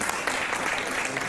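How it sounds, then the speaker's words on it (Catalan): A small audience at a poetry book launch applauds a prize winner. The brief burst of steady, moderately loud clapping has some voices underneath. "això també es mereixeu un aplaudiment"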